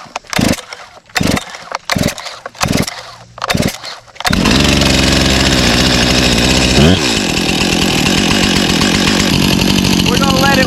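A top-handle chainsaw sputters through several short pulls and bursts, then catches and settles into a loud, continuous idle close by, with one brief rev partway through.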